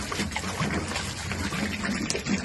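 Water is poured or trickled, a faint, uneven splashing and dribbling close by at low volume.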